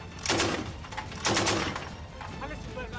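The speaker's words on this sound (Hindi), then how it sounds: "सेना के जवान मशीन गन से भी फायरिंग करते नजर आए।" Army soldiers fire machine guns in Syria's Hama province, two bursts of rapid shots ringing out with a pause between them, heard at moderate distance over a faint background voice.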